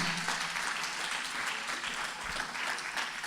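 A church congregation applauds the Lord with dense, sustained clapping that sounds like a large crowd, steady and fairly loud throughout, with no clear voices over it.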